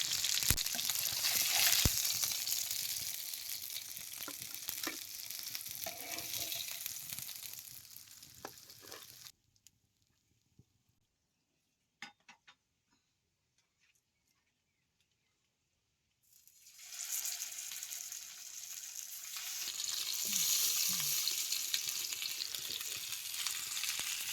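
Stuffed masala pomfret fish pan-frying with a loud, steady broadband sizzle, broken by a silent gap of several seconds in the middle before the frying hiss returns just as strongly.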